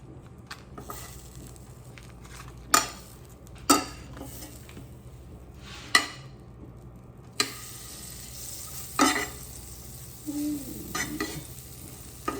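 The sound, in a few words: butter sizzling in a hot pan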